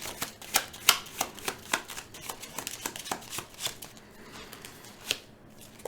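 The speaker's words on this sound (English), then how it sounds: "we are shuffling our deck" A deck of game cards is shuffled during a solo tabletop card game, giving a quick, close run of crisp snapping riffles and soft clicks, fairly quiet and without talk.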